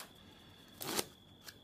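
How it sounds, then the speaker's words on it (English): A deck of playing cards riffles in one brief crisp burst, followed by a fainter short flutter, close and quiet with no voices. "You can do a double fan. Like this, and the famous waterfall shuffle."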